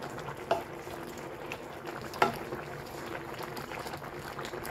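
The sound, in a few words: green chili added to cooking meat and jackfruit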